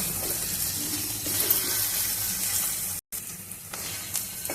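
Ginger with ground and whole dried chili sizzles steadily in a pan for a vegetarian mixed-vegetable labra, a soft continuous hiss with one brief break.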